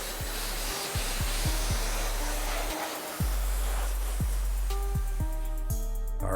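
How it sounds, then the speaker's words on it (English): A Blaster Sidekick air dryer blows a steady loud hiss of air onto a car tire, a continuous rushing whoosh close by with shifting pitch as it moves, no talk. "we're gonna hit it with our Blaster Sidekick. That's where this little machine's perfect"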